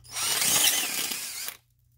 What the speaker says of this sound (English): we'll go ahead and use our drill and unibit in order to ream our copper tubing